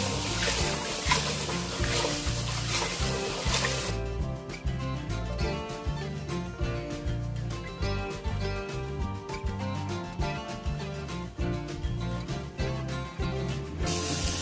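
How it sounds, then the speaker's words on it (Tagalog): Wild greens for a survival salad are rinsed under running water, a loud steady splashing and hiss at first, then a busier pattern of rhythmic sloshing and dripping as the leaves are worked by hand. "Pero hugasan natin ng maigi ito."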